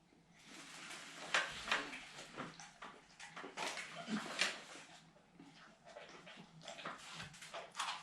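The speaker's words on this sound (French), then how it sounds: "Le chien aime bien aussi." A dog close by making snuffling, lapping and soft whimpering noises in irregular bursts as cheese is shared with it at a tasting.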